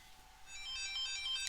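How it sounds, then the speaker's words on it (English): A phone ringtone plays faintly in the background, a bright repeating electronic melody that rises in level over a couple of seconds, with no talking. "I'm getting a phone call."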